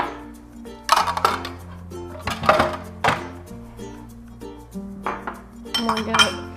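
Beaten eggs being stirred into a cornbread mixture in a bowl, giving a run of spoon clinks and knocks against the dish, some loud and close, with a low hum underneath and no talk.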